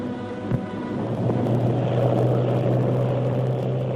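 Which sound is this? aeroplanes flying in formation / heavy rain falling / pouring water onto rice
aeroplanes flying in formation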